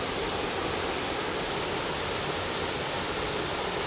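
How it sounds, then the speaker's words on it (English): A majestic waterfall at the end of a hiking trail roars in a steady, dense wash of white noise that stays even and unbroken throughout, with no voices over it. "Bye, waterfall."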